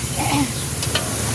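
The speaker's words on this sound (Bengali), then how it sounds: "এবার কিন্তু এই যে সবজি ভাজাগুলো আছে সেটা কিন্তু দিয়ে দিলাম, দিয়ে ভালো করে কষিয়ে নেবো।" Fried vegetables being stirred in hot spiced oil in a pan for a fig (dumur) curry give a close, steady sizzle with scraping spatula strokes under a low background rumble.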